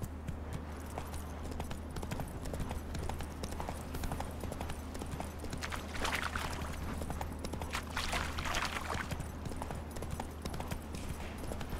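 Roach, a horse in The Witcher 3 game, clip-clops along in a steady, continuous hoof rhythm at a trot, loud and close, with no talk over it.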